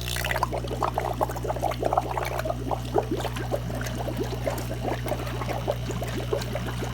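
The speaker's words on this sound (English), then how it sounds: "So you see we have a lot more bubble, and some water even jump out of the bucket" Air pump pushing air through a silicone tube into a bucket of water, producing busy, continuous bubbling and splashing with a steady low pump hum underneath, close and fairly loud throughout.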